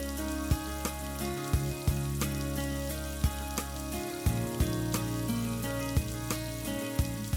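Thickened milk being stirred into melted Amul ghee in a pan: a steady sizzle and fry with regular spatula taps and scrapes against the pan, close and fairly quiet, no talking.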